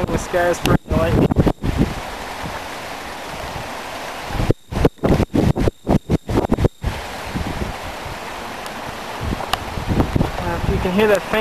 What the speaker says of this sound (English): what you're hearing is the wind actually whistling through these power lines